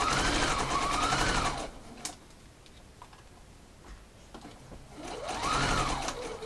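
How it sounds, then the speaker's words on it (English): A sewing machine stitches around bias binding in two steady, rapid whirring runs, one at the start and one at the end, separated by a quieter pause with faint clicks. "So I'm going to go and sew all the way around, and remember, just in the crease line of the bias binding."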